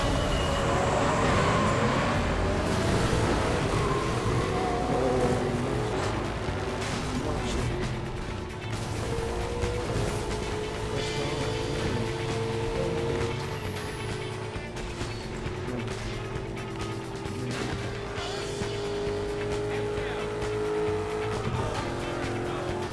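Cars race in Burnout Paradise, a dense continuous engine roar with shifting revs, whooshes and occasional tire noise, loud throughout with a steady rumbling backdrop.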